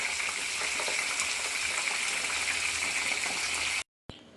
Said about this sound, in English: So I'll be frying these in 2 sets.